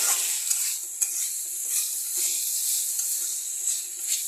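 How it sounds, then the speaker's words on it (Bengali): Chicken curry stirred in a pan after water is added, a soft continuous sizzle with light scraping spoon strokes at intervals, close but moderate in level, with no talk. "জলটা দিয়ে কন্টিনিউ এভাবে নাড়তে হবে"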